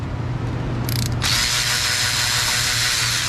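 Power tool or ratchet spinning bolts off an engine bracket on a classic 4.3 L engine, a steady close mechanical whirr with a brief higher burst near the start, running continuously without talk.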